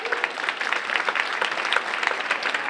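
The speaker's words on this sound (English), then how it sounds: "So can we have one giant final round of applause?" An audience at a high school senior awards and scholarships event gives a steady round of applause, with bright, even clapping and no talk over it.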